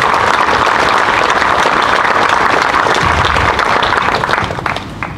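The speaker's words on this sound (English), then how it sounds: "So let's give him a round of applause." A crowd at a Veterans Day celebration claps loudly and steadily for several seconds, the applause thinning and fading toward the end.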